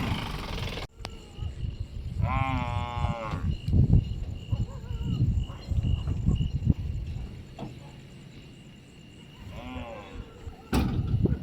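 A cow that has just calved gives two drawn-out moos, one early and a shorter one near the end, among barn noises including a sharp door-like bang and occasional voices.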